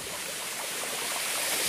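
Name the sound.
thin trickle of water in a mountain stream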